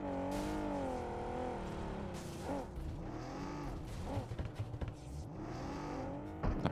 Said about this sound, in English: That car sounds very unhealthy. Yeah, it does. It's struggling.